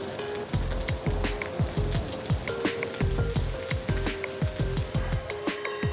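Heavy rain shower at a circus moving site, steady dense patter of drops on surfaces with repeated hollow knocks and thuds from nearby work, no voices.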